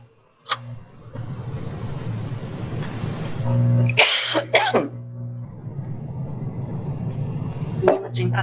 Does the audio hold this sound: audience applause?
no